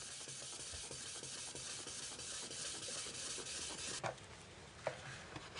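Charcoal made from Japanese wood oil tree rubbed over lacquer during maki-e polishing gives a steady, close, continuous gritty rasp, with a few sharper scrapes near the end and no voices.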